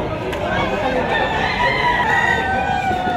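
A black-faced gamefowl bull stag crows amid other chickens clucking nearby, moderately loud, with faint background chatter.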